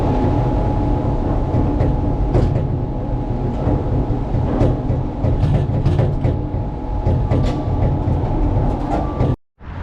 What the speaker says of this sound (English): We just took the tram car down to the bottom of the arch.